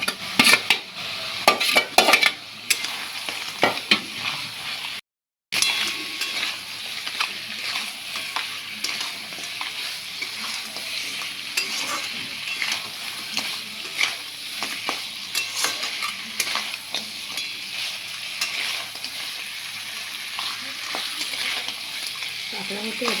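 Crab kosha sautéing with Kashmiri chili in a pan, a continuous sizzle with frequent scraping and clattering of a spatula stirring against the pan, brief silence near the start, close and steady throughout.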